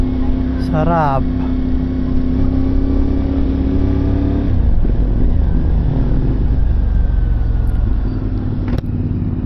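A CF Moto 450MT motorcycle fitted with a new custom exhaust pipe made by Toto Pipes in Mabalacat, Pampanga rumbles deeply and steadily up close, with a few rises in revs. Someone speaks over the engine.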